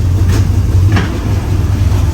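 A Chevy Bel Air's 265 V8, recently freed from being locked up, runs with the transmission in reverse, giving a steady close low rumble and mechanical drone without any voices.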